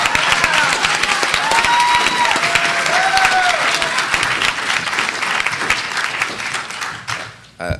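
Loud, continuous clapping from a conference crowd at a green-energy jobs session, with some cheering and whoops on top, holding steady before thinning and dropping off near the end.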